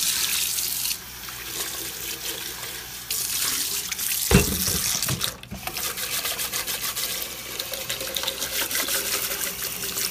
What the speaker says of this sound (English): You take the container and you basically rinse it